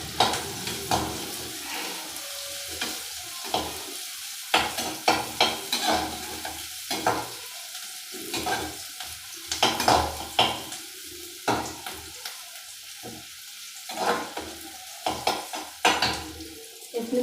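Onions fry in a pan for a tadka being made with macaroni, giving a constant sizzle under repeated loud scraping and clanking stirs nearby, with no voices.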